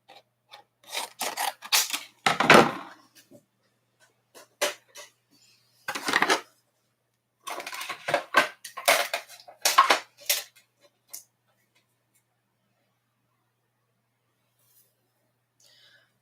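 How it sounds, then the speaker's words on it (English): Scissors cutting a shape from cardstock at a craft table, close dry snips and rasping strokes coming in short irregular bursts separated by quiet pauses, with no talk. "we are just going to cut that one out of that piece of cardstock."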